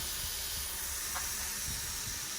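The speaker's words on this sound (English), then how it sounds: "leave your meat on the skillet without moving it for a minute or so" Fajita meat searing on a hot skillet gives a steady, dense hiss that holds without a break and stays fairly quiet, with no voices over it.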